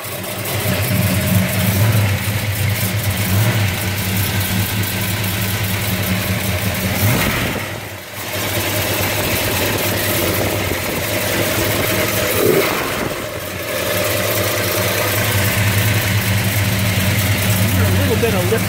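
A 1968 Dodge Charger with an aftermarket carburetor and Edelbrock Performer intake idles loudly and steadily with a light ticking of lifter noise, the engine dipping briefly twice before settling back, while a person talks over it.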